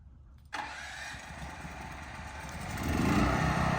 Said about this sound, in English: I'm 60, 70 feet away and you can still hear the generator.